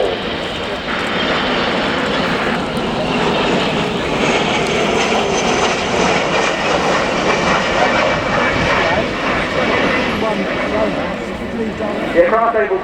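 A KC-135 refuelling tanker jet roars past at an air show at RAF Fairford, a loud, steady engine rumble that lasts throughout. Commentary runs over the engine noise.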